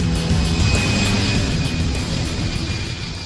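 A jumbo jet roars through its takeoff, a loud, steady broadband engine rumble with a high turbine whine that stays dense throughout and eases off slightly toward the end.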